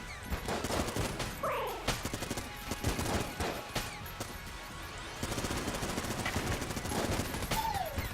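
Gunfire from the video game Enter the Gungeon crackles in rapid, dense bursts, mixed with electronic whooshes and sweeping effect tones, continuous and fairly loud throughout.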